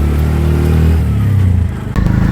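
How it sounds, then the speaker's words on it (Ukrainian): A tuk-tuk's small engine labours up a winding mountain road, a loud, close, steady drone with shifting pitch as it strains, briefly dipping near the end before picking up again. "ледве на силу якось той тук-тук"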